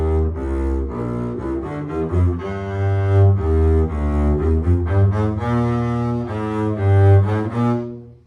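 A double bass plays a short etude in half position, a run of deep bowed notes moving steadily with slight note-to-note breaks, heard close and solo before stopping cleanly.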